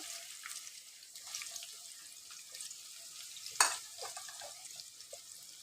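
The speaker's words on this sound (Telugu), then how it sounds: "ఇప్పుడు ఆనియన్స్ అయితే రెడ్డిష్ కలర్ వచ్చే వరకు మంచిగా మనము ఫ్రై అయితే చేసుకోవాలి" Chopped onion fries in hot oil for a bottle gourd tomato curry, a steady close sizzle with light stirring scrapes and one sharp clink of a utensil partway through.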